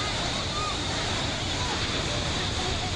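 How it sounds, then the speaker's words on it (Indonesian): A flooded river in East Flores overflows after torrential rain, its rushing water a dense, constant roar and hiss with no breaks. "Derasnya air sungai meluap hingga ke permukaan jalan dan permukiman warga"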